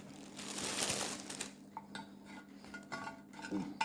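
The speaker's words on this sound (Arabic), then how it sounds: "دابا غادي نستفو هاد البسكويت ديالنا" Tiramisu biscuits crushed in a kitchen, with crunchy crumbling and clinks of cutlery and dishes in bursts, loudest early and then scattered through the rest, nearby and fairly quiet.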